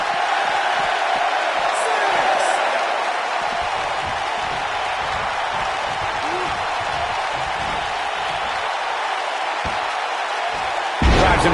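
A capacity arena crowd in the wrestling video game WWE 2K19 roars and cheers as a steady, dense wash of noise that holds throughout, with faint thuds and a sudden swell at the very end.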